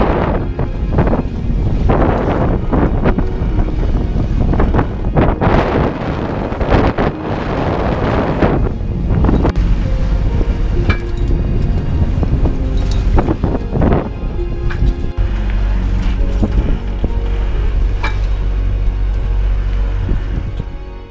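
Steady loud wind roars across the microphone while rough sea rushes and slaps around a moving sailboat off Tenerife, continuous throughout with occasional heavier splashes.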